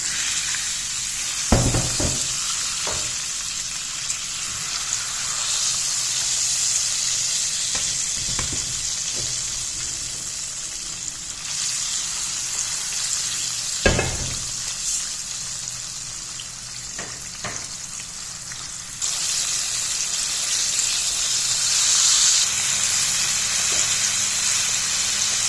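Sardines, a sea fish, fry in a pan with a loud, steady close-up sizzle and hiss, punctuated by a couple of sharp spatula clatters, and the sizzle swells noticeably later on; no one speaks.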